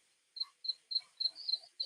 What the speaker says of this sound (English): Crickets, literally.